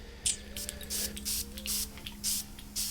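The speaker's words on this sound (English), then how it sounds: "And let's do like 10 sprays on my arm." A Dolce & Gabbana The One EDP perfume atomizer fires a quick run of short, close pressurized sprays, several crisp hissing bursts spaced irregularly against a faint background hum.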